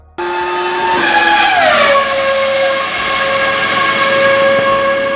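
A 2005 Formula 1 V10 engine revving loud and close, its high shrieking note climbing, then sweeping down and settling into a steady sustained whine for several seconds with no talk.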